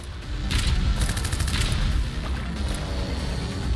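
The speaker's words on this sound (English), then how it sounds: "A bomb going off." Bomb blast and battle din from the sci-fi autobattler Corrupted: Dawn of Havoc, a loud continuous roar of crashing explosions and rattling fire with bursts of sharp impacts throughout.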